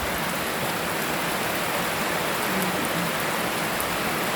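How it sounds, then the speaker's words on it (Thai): Steady rain falling outdoors where elephants play, a dense even hiss of drops with no clear breaks, continuous and fairly loud with no talk. "วันนี้ก็ฝนตกนะคะ"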